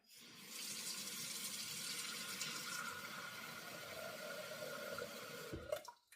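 Warm water pours steadily from a tap into a measuring cup, a continuous close rushing and splashing that rises slightly in pitch as the cup fills, ending with a few clinks.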